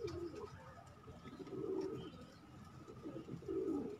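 A pigeon coos softly in repeated low, throaty phrases, faint and fairly close, with light background noise and no voices.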